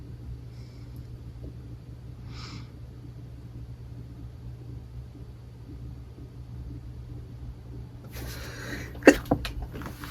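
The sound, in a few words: sneeze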